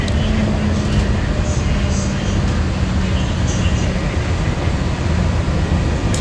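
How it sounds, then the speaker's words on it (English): Steady loud rumble and wind roar from inside a Walt Disney World monorail riding through Epcot past Spaceship Earth, a constant drone with voices talking underneath. "on the monorail."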